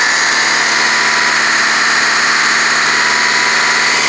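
A 2013 Honda Accord coupe with a four-cylinder engine and automatic transmission idles with a misfire, a steady loud hum that runs without a break and without talk.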